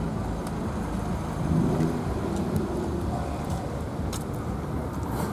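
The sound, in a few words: Daihatsu Copen car driving past, engine revving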